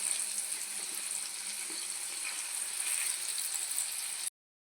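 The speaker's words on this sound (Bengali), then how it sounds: "আলুগুলো আমার প্রায় ফ্রাই করা কমপ্লিট হয়ে গেছে।" Potatoes frying in hot oil in a pan for Bengali-style chicken kosha, a steady close hiss and crackle that continues evenly before cutting off abruptly near the end.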